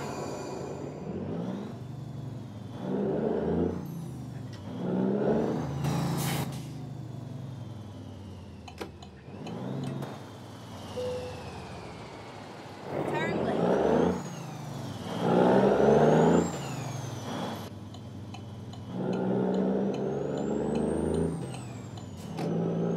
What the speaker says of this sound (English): I love the sound of that turbo.